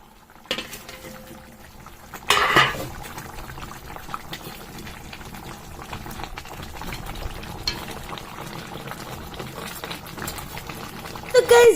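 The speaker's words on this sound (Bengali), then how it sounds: "তো এখন আমি মাছের মাথাটা দিয়ে দিলাম, আর দেখো টকবাক টকবাক করে ফুটছে।" A pot of fish head curry bubbles at a steady boil, a low continuous burble with a brief splash as something goes in, while a person talks over it.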